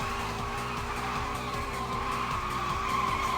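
Repeated tire screeching and skidding from cars in the Initial D Arcade Stage racing game, with a Toyota Levin AE85, loud and continuous over a droning engine and game music, with no talking.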